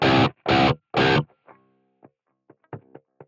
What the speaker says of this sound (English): you can hear this little tapping on the strings